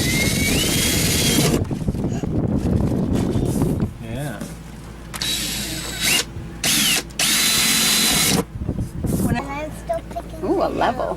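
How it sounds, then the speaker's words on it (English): A power drill bores a hole while a charging station is installed inside an RV, whining in bursts that start and stop, close and loud, with people talking in between and over the drilling. "I'm just going to drill this second hole"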